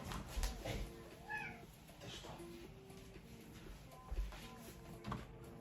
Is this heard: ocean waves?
no